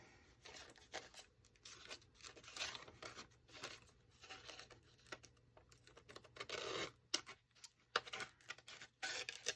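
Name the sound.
paper panels trimmed on a paper trimmer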